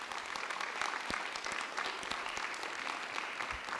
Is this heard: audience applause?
yes